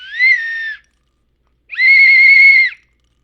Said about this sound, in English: Okay, whistle works really well.